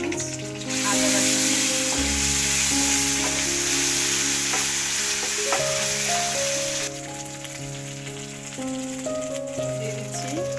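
Ginger paste goes into fried onions in a pot for beef bhuna khichuri, producing a loud, continuous sizzling hiss that runs under steady background music.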